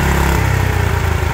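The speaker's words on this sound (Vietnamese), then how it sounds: "Này lên cho bà con một con xe máy xới hai cầu. Hai cầu bốn bánh." Engine of a two-axle, four-wheel Yanmar rotary tiller, a loud close diesel-like chug with steady rapid pulsing, idling and slightly shifting in load, with no voices.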